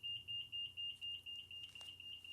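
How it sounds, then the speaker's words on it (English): A fire alarm going off indoors, sounding a steady series of high, shrill beeps in an even repeating rhythm, fairly faint, with no talking over it. "Yeah, so we have a fire alarm going off."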